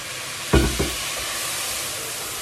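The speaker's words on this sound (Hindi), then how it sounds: "मेरा ज़रा प्याज हो रहा है तो मैं यहाँ पे ना थोड़ा इसमें तड़का डाल लूँ" Onions for a tadka sizzle steadily in a pan, with a couple of sharp bursts of crackling near the start as something hits the hot oil.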